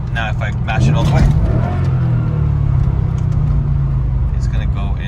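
A Mercedes CLK55 engine roars hard at full throttle, a loud sustained rumbling drone, with a voice talking briefly over the start; the car has a limp-mode fault.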